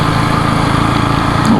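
A Husqvarna Svartpilen 250 motorcycle engine drones loud and steady while overtaking on a monsoon road ride, a constant high-revving buzz mixed with wind rush throughout.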